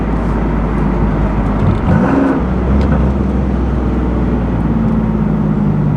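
A turbocharged car accelerates without reaching boost, its engine droning loud and steady from close by, with a faint, subtle turbo whine riding underneath.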